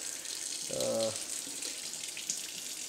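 Hot water running from a tap into glass candle jars, a steady faint stream of flowing water with a brief low hum partway through.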